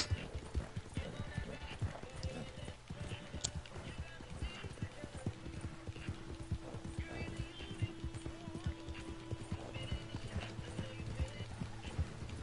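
Hooves pound in a fast, steady galloping rhythm as a horse runs in the video game Red Dead Redemption 2, continuous and fairly close, with occasional snorts and faint game sounds beneath.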